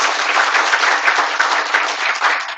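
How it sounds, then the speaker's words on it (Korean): Audience applause at a stroke health lecture, a dense, steady clapping from a seated crowd lasting the whole moment, loud and even with no talk. "박수 한 번 더 부탁드리겠습니다."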